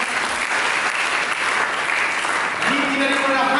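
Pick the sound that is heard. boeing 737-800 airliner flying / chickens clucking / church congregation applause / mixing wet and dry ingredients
church congregation applause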